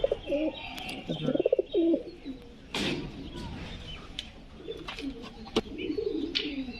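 High flyer pigeons coo in repeated soft, throaty phrases close by, with short chirps and a few sharp clicks scattered between them, and nobody speaking.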